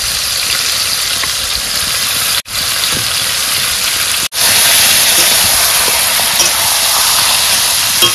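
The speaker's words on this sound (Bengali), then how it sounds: "এবার মাংসটা দিয়ে দেবো।" Meat hits hot frying spice masala in a pan, giving a loud, steady sizzling hiss that runs throughout, broken only by two brief cuts.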